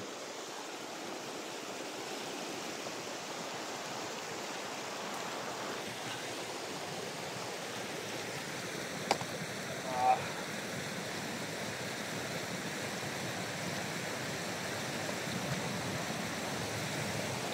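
Steady broadband rushing of flowing river water, continuous and even, with a couple of brief faint knocks partway through.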